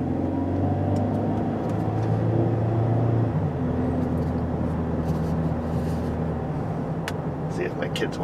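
A Buick Enclave driving around town, a steady loud cabin drone of engine and road noise with shifting engine tones, going on throughout under talk.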